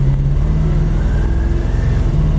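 A Plymouth Duster with a 318 V8 and a 904 transmission fitted with a manual valve body revs steadily, a loud close engine drone from inside the car with no speech.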